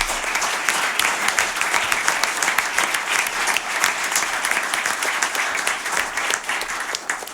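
Steady, dense applause from a studio audience after a band's live session at a radio station, continuous clapping at an even level for about seven seconds, with no voices over it.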